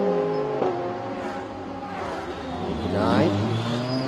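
A Ferrari race car sweeps past on a circuit, its engine note rising and falling as it passes close by, with commentary voices talking over it.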